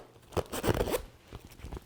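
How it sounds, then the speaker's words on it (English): Zipper on a MOmarsh Versa-Vest dog vest drawn to join two panels, a few quick close rasping zips in the first second, then softer fabric rustles and short scrapes. "the best thing to do is zip the two together"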